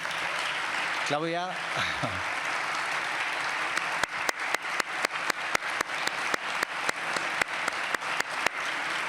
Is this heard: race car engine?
no